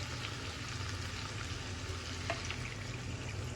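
Broth added to a pan of taro curry with hilsa fish, bubbling and sizzling steadily and softly throughout, with no voices.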